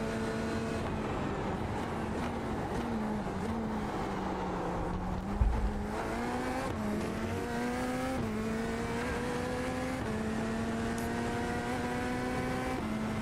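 Corvette GT3 race car lapping Sebring in a racing video game, its engine droning continuously near the listener, with the pitch rising through each gear and dropping at every shift.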